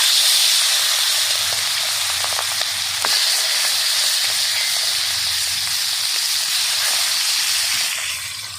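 Tengra fish frying in hot oil give a loud, continuous sizzle and hiss, steady from start to finish and easing off slightly at the very end, with a few faint clinks of a utensil.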